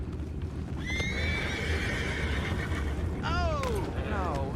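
Horses whinny twice in Red Dead Redemption II, a long neigh early on and a second, falling whinny near the end, over steady clip-clop hoofbeats and a constant low rumble of game ambience.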